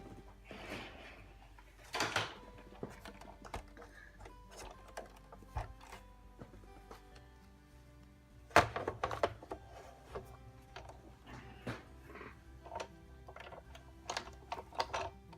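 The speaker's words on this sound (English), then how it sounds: "I'll bring in the Big Shot and we'll run it through." A Big Shot die-cutting machine cranking a cardstock and die sandwich through its rollers, with soft clicks and ratcheting bursts, a louder cluster midway, faint and close.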